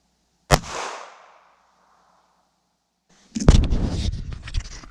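A Sig P238 pistol fires a .380 ACP Sinterfire Special Duty round into ballistic gel outdoors. One sharp, loud report rings out and decays, and a few seconds later a second loud, rough burst of noise follows.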